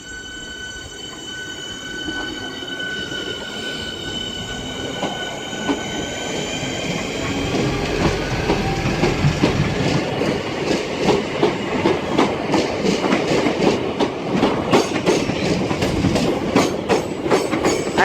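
A train departs Lewisham station on the Cannon Street loop service, its wheels clattering over rail joints in a quickening rhythm as it gathers speed, with steady squealing whine and growing rumble throughout.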